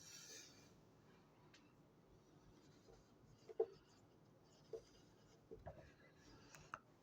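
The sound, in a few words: chalk or pen writing on a board during a physics lecture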